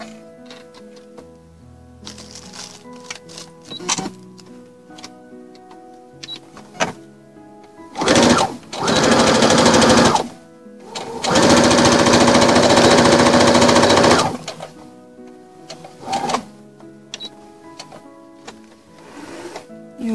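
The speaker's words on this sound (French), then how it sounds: "On va piquer la couture du milieu, du dessous du col." A sewing machine stitching the centre seam of a jacket's under-collar runs in two loud steady mechanical bursts, the second longer, with quiet handling clicks and taps before and after.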